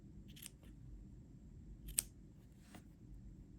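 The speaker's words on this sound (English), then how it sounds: "And then I'm gonna trim this to however you like it." Scissors trim crochet yarn in three quiet, separate snips, the middle one the sharpest, against a faint hushed background.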